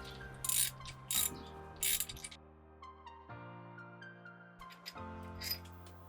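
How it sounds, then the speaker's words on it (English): A ratchet loosens the crankshaft pulley bolt on a Subaru WRX STI, its clicking in bursts amid metallic mechanism noise, close and moderately loud with no talking. "let's finish loosening up the crankshaft pulley bolt the rest of the way"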